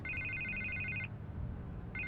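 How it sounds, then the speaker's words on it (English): An electronic telephone ringing in the Batman Telltale Series game, a bright trilling ring lasting about a second, a pause, then the next ring starting, clear and alone over a low room hum. "I can't get the phone to stop ringing."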